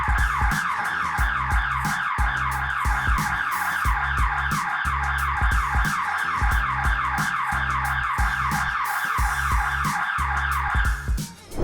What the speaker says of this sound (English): it's going to sound our loud siren